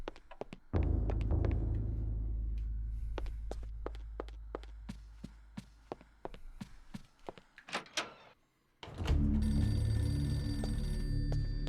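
A telephone rings in the Eternal Darkness video game, a steady ringing tone lasting several seconds amid scattered clicks and footsteps, then a dense musical swell takes over near the end.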